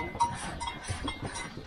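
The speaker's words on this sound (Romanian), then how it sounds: "Uite, așteaptă aici la ușă caprele astea." Goats waiting at the door of a sheepfold during milking, with a bleat-like call and soft clinks of movement close by, steady and no talk over it.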